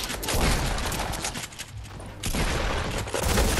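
Video game gunfire crackles in rapid, overlapping bursts, loud and dense. It briefly thins out midway, then resumes at full intensity.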